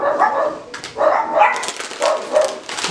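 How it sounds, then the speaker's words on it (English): Dogs bark in a quick run of sharp, mid-range yips and woofs, fairly close and repeated in several bursts, heard indoors during a snack-tasting session. "These dogs are barking."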